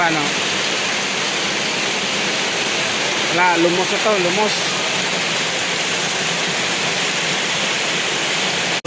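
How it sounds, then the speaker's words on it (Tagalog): Steady, loud broadband hiss of heavy rain pouring throughout, with someone speaking briefly in the middle. "napakalakas ng ulan ngayon"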